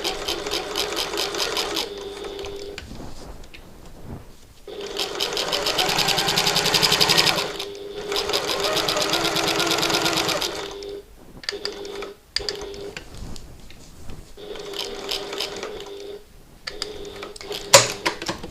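A domestic sewing machine stitching fabric for a button lock bag, whirring in several sustained runs of a few seconds each, close and loud, with someone talking in the gaps and between stitching passes.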